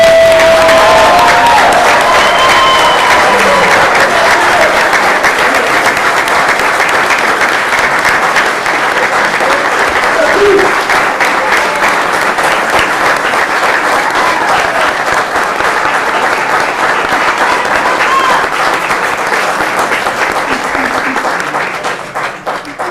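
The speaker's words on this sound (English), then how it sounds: "How about a nice round of applause for these men and women that protect us?" Sustained audience applause fills a township committee meeting room for promoted and transferred police officers, steady and loud for about twenty seconds before tapering off at the end.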